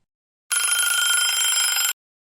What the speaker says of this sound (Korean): 오래된 집 전화의 날카로운 벨소리가 조용한 집 안에 울려 퍼졌어요.